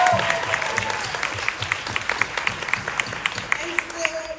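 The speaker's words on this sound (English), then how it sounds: "give it a round of applause for that." Audience applause during a film Q&A at SXSW, a crowd clapping steadily with sharp individual claps standing out, while voices talk over it.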